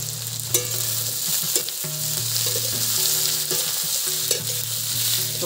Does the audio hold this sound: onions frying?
yes